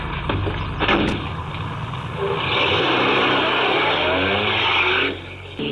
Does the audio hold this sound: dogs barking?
no